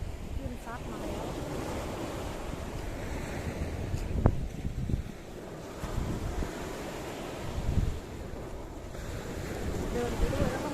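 Cold sea waves wash ashore in a steady rushing roar with gusty wind buffeting the microphone, surges swelling every few seconds, close and continuous.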